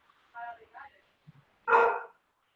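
A small dog barks during an online class call, two soft yips followed by one sharper, louder bark, with faint sounds in between and near silence around them.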